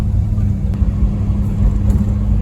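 A car with a 2-barrel carburetor engine runs smoothly while driving, a steady low rumble filling the cabin without pause.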